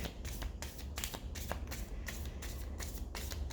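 A deck of cards is shuffled up close in quick riffling bursts at a steady rhythm, quiet and crisp, with no one speaking.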